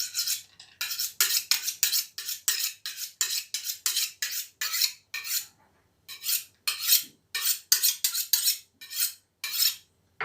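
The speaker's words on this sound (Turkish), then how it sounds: "Evet masatımız bileme yapıyor mu?" A knife is drawn again and again along a honing steel, giving about twenty crisp metallic swipes in a steady rhythm. The strokes are close and clear, with short gaps between them.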